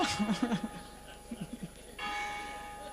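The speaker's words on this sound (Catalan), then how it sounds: "Ara toquen les campanes i no em sentiran." A church bell rings out during a book presentation, sustained tones filling the background while a voice speaks briefly at the start.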